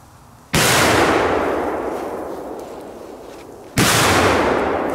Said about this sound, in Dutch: Eerste groene van de nieuwe. Vol gas. Let's go, groen. Groene vlam